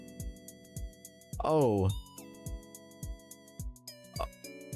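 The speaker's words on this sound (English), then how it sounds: "Somebody messaged me, sorry, I just gotta take this one phone call." A phone ringtone for an incoming call plays as a looping melodic chime with a rising warble partway through, heard clearly over a rhythmic music bed, with a brief spoken exclamation.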